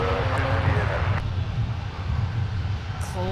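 A regional jet taking off at an airport makes a steady, low, rumbling engine roar, with radio voices talking over it.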